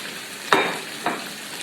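Onion pieces sizzle in a hot frying pan, with two sharp bursts as more onion is added and stirred, followed by steady frying crackle, close and fairly loud with no talking.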